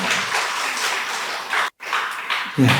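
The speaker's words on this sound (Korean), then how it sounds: "진행해주신 모든 분들께 한번 박수 부탁드리겠습니다." A church congregation applauds during a service. The steady, close wash of clapping breaks off briefly, then resumes, and a low voice sounds near the end.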